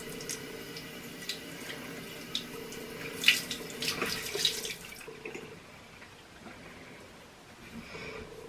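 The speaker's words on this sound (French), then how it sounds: "Donc je le rince avec un gant de toilette et de l'eau." Water running from a bathroom tap while a face mask is rinsed off with a washcloth, a steady close splashing flow with brief louder splashes in the middle before it eases off.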